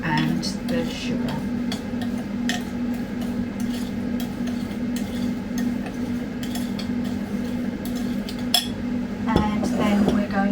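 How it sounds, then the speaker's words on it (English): Chickpeas tossed in a bowl with oil, cinnamon and sugar, giving a busy run of scraping, clinking and rattling against the bowl that continues throughout, close and fairly loud, with a steady hum underneath. "we'll just toss these around so they're coated in the oil, the cinnamon and the sugar"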